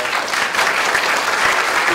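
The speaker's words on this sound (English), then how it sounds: "Big round of applause for everybody." Loud, continuous applause from an audience at a student competition fills the room, with thick overlapping claps and a murmur of voices beneath.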